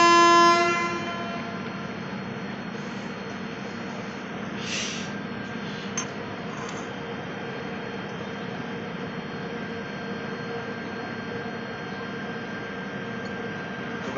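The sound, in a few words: Shri Shakti Express train departing Pathankot station, horn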